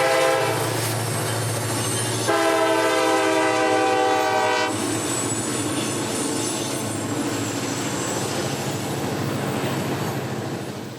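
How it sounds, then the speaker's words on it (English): Three Jeep locomotives lead a solid freight train for Bridgeport and Widows Creek around a curve near Chattanooga, Tennessee, sounding a loud horn blast for a couple of seconds over a steady heavy rumble and wheel clatter. "3 Jeep locomotives would round the curve out of town with a solid train for Bridgeport and Widows Creek"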